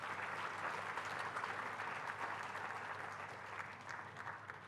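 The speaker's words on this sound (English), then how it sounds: "So give them a big round of applause." Applause from an audience at a university freshers induction program, many hands clapping in a dense, even patter that holds steady and then slowly eases off toward the end.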